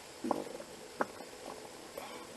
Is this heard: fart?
yes